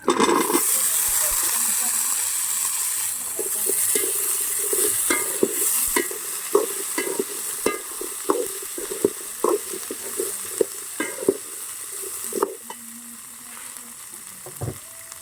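Ginger and garlic frying in oil in a pan, with a steady bright sizzle and repeated clinks and scrapes of a spoon stirring, close and fairly loud, no voices.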